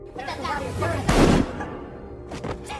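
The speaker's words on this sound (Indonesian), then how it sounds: "Namun asli malah tidak terima dan menembak ajudan sang presiden." A gunshot from the action film The Beekeeper: one loud, sharp blast with a short booming tail, rising out of a steady bed of film score and ambience.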